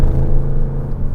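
An Audi RS6 Performance rounds a roundabout at speed, heard from inside as a deep, steady engine and road rumble with no voices.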